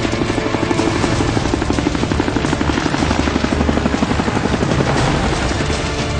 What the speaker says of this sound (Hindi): हेलीकॉप्टर आ चुके थे।